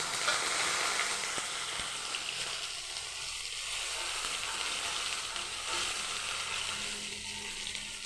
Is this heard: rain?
no